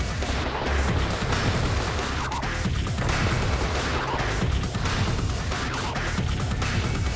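Gunfire and heavy impacts from the survival horror video game Cold Fear, dense loud bursts of shots and crashes piling up continuously without a break, close and harsh.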